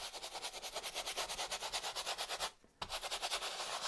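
A palette knife or scraper drags oil paint across a canvas in steady, rhythmic back-and-forth strokes, close and soft, with one brief pause partway through.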